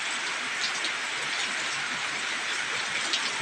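Steady rain pours down at a rubber plantation during a power outage, a constant dense hiss with no breaks and no voices.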